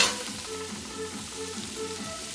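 Garlic frying in butter in a pan, a close, steady crackling sizzle with faint stirring scrapes, quiet and continuous with no talking.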